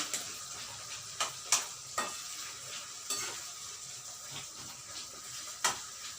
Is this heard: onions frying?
yes